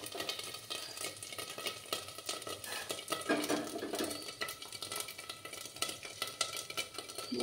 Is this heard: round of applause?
no